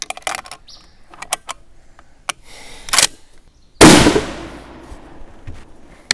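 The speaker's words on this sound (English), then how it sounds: "Go ahead and shoot this last shot at 51 grains." One sharp, loud crack from a Swiss K31 rifle in 7.5x55 firing a 51-grain load at an outdoor range, ringing briefly after, with small clicks and handling noises before it.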